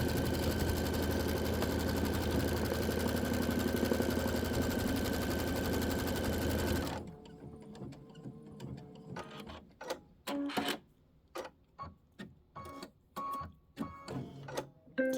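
A computerized embroidery machine stitches an outline on a quilt block, a steady, dense mechanical whir for about seven seconds, then stops, leaving scattered clicks and handling noises.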